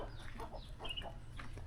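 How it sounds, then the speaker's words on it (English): Chickens cluck faintly in the background along a hot walk back toward a hotel, with soft, scattered calls over low outdoor ambience and no talk. "It's chickens."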